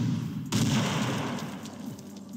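Hovering turrets firing in the game Tempest Citadel, a sudden loud burst opening into a sustained rumbling barrage of shots and blasts that slowly fades.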